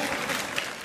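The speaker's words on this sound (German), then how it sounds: "das ist dein Applaus" Brief burst of studio-audience applause at a German livestream, a dense even patter of clapping heard up close without any voices over it.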